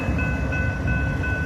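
A real freight or passenger train rumbles past at night, a steady close roar of rolling wagons with a faint sustained tone above it.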